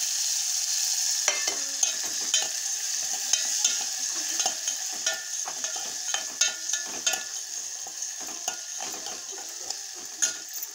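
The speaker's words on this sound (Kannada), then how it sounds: "ಈಗ ಬೆಳ್ಳುಳ್ಳಿ ಎಣ್ಣೆ ಒಳಗೆ ಫ್ರೈ ಮಾಡ್ಕೊಂಡು ಈಗ ಖಾರಪ್ಪ ಫ್ರೈ ಮಾಡ್ಕೊಳತ್ತೀನಿ ರೀ" Garlic and chili sizzle steadily in hot oil in a pan, a constant close hiss broken by frequent light clinks and scrapes of stirring.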